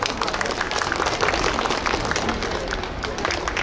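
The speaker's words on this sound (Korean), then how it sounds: "큰 박수 주세요." Audience at an autumn street music festival in Insadong cheering for a fusion gugak act, with steady dense clapping from a crowd and a little voice noise mixed in.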